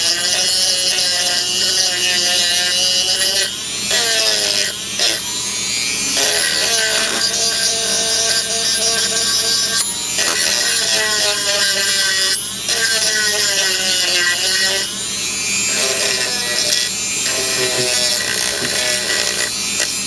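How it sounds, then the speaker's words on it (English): A rotary sanding drum grinds against silver plate, a steady loud high-pitched whirring and scraping that runs continuously with brief dips in pressure, no speech. "So we'll put our sanding drum on."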